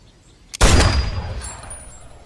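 A single loud gunshot cracks out in an action movie scene, its blast decaying over a couple of seconds into a fading echo.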